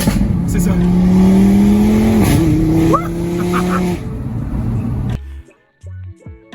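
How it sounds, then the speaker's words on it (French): An Audi RS3 engine revs loudly and steadily, then drops pitch abruptly through hard, violent gear shifts. The roar cuts off and gives way to quieter sounds at the end. "les passages de vitesse sont incroyablement violents"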